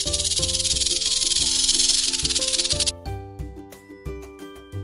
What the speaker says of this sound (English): R for rattlesnake, and how it sounds.